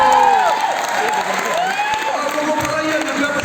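A seminar audience claps and cheers in a dense burst that stays loud and fills the room, with shouting voices mixed through the applause.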